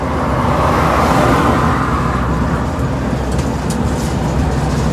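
Volvo B12 truck engine with a faulty solenoid valve, driving on a road: a steady, loud, dense drone from start to finish with no talk over it.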